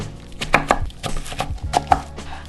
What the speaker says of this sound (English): the first thing we're going to do is chop up our cabbage